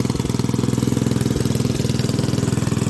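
An old F.W. and Associates Mini Cars go-kart engine idles high with a steady, rapid chugging pulse, loud and close, running on its own without any voices.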